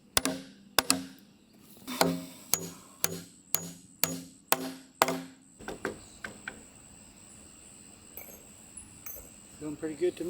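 A hammer drives a nail into a small wooden shim on a large pergola build, about a dozen sharp evenly spaced blows followed by quieter tapping and faint outdoor ambience.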